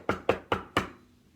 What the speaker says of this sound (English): She took hold of the knocker and banged on the door.